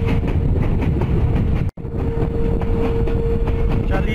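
The Malakwal shuttle train rolls along railway tracks in Pakistan, a loud, steady rumble with a rhythmic clatter and a sustained tone, close by, with a brief sharp dropout midway.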